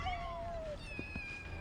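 A sick pet cat in Final Fantasy 7 Rebirth gives a couple of close, drawn-out meows over steady game background sound.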